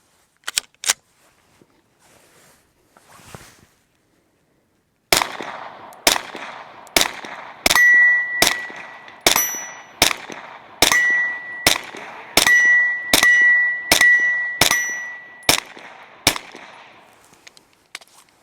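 A rifle fitted with an Anechoic AnechoX 35 suppressor fires suppressed shots outdoors: a few opening shots, a pause, then a rapid string of about fifteen sharp cracks with a metallic ring after several of them.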